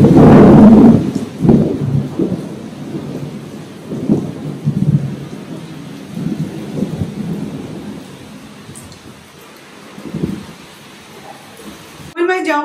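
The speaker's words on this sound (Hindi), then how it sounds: "अचानक से शुरू हो गया बारिश" A sudden downpour arrives with heavy thunder, a loud close rumbling crack at the start followed by repeated rolling booms over steady hissing rain, and a voice speaking briefly at the end.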